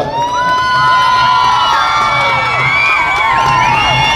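A large outdoor crowd at a Huli Kunitha tiger-dance event in Mangaluru cheers, whoops and whistles loudly and continuously, with sharp piercing whistles rising and falling over a dense roar and clapping.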